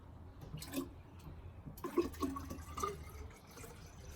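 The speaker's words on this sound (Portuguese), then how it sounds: "No qual eu vou colocar água, inclusive de forma lenta" Water trickles and drips slowly into a water level sensor setup, with small irregular splashes and a fuller pour partway through, close and fairly quiet.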